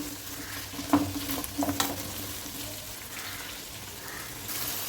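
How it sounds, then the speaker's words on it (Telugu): Thinly sliced bitter gourd frying in a pan, a continuous close sizzle broken by a few louder stirring scrapes and crackles, with no talk. "కాకరకాయలు ఫ్రై అవుతున్నాయి"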